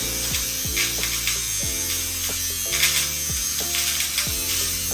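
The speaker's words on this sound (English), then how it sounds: "I'm gonna use this eyebrow shaver." Small electric eyebrow shaver buzzing close up while trimming eyebrows, its motor whine rising and falling in pitch as it presses against the skin, running steadily throughout with no talk.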